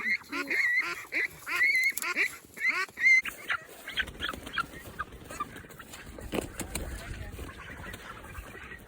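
Ducks being carried and following along at night honk and quack loudly in rapid bursts, then grow fainter and more scattered, mixed with footsteps, rustling and occasional voices.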